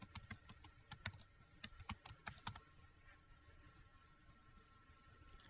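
Quick, quiet keystrokes on a computer keyboard tap out a web address in a brisk burst lasting a couple of seconds, followed by faint room hiss.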